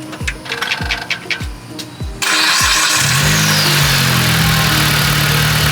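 A car engine cranks with several rhythmic starter pulses, then fires and settles into a loud, steady idle, heard up close right after a power steering pump replacement.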